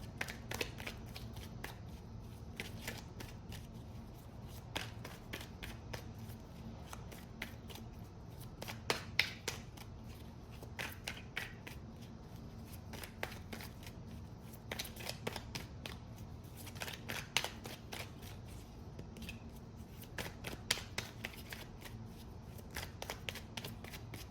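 A deck of cards shuffled repeatedly, its quiet riffling bursts and snaps close by over a low background hum.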